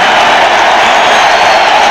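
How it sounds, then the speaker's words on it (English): A college football crowd at Washington, in a 1989 game against Texas A&M, applauding the home defense: a loud, dense, unbroken roar of clapping and cheering. "And the crowd now expressing their real appreciation of this Washington defense."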